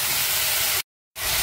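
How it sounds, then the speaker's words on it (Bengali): Bitter gourd and spices with salt and turmeric sizzle in hot oil, a loud, even hiss close by that cuts out for a moment and then resumes. "এবার ভাজা হবে।"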